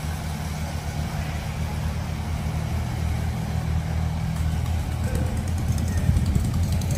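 Antique Allis Chalmers tractor engine running steadily nearby, a continuous low rumbling drone at an even, unchanging level with no speech.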